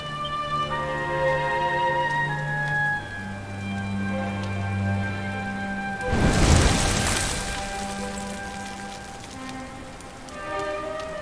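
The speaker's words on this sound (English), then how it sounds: "Looks like the rain's dying down." Rain falls steadily in Dragon Quest XI, a continuous hiss beneath tonal game music, broken midway by a loud crashing burst before the downpour settles back.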